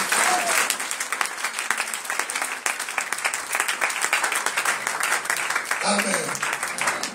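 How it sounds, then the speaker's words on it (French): Congregation in a church applauding Jesus, with dense sustained clapping from a crowd filling the space, mixed with cheering voices and a brief shout near the end. "On acclame Jésus."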